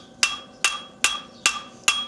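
Five sharp, evenly spaced metallic hammer blows ring out while hemming metal, each strike bright and close with a brief decaying ring, no voices present.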